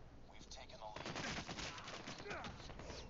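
Assault rifle fire in a video game team deathmatch, rapid bursts of shots running through the whole short stretch, close and loud, with a player's voice talking over the gunfire.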